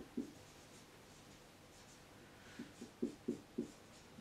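Chalk or marker tapping and scraping on a board during a mathematics lecture, faint isolated strokes in an otherwise quiet room, the last ones coming in a quick run.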